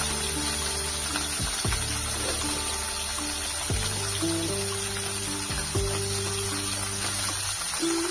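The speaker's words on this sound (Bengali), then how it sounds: "মাছগুলো দেওয়ার সময় কিন্তু একটু সাবধানে দিতে হবে, না হলে কিন্তু গায়ে তেল ছিটকে পড়ে যেতে পারে।" Koi fish frying in hot oil in a kadai, a continuous close hiss and sizzle with a fairly steady level, accompanied by intermittent lower tonal hum, no talking.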